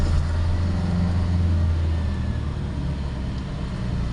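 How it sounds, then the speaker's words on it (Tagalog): Steady road traffic on a dark, rain-slicked street, a continuous low rumble of passing cars and heavier vehicles with a constant droning hum throughout, fairly loud and close with no voices. "Traffic mga kaibigan, at makinig kayo."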